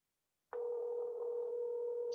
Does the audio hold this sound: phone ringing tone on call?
yes